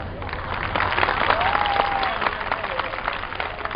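Applause from an audience after a poem at a Hindi poetry gathering, a dense sustained wash of many hands clapping, fairly loud and steady throughout, with a voice briefly heard over it.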